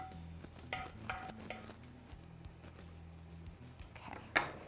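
Garlic cooking gently in a pan over low heat, a soft background sizzle broken by intermittent stirring scrapes and clicks of a utensil against the pan, with a louder knock near the end.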